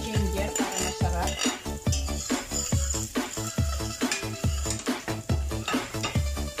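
Garlic and ginger stir-fried in a pan over high heat, with a fast rhythm of metal utensil clanks and scrapes against the pan over a steady sizzle.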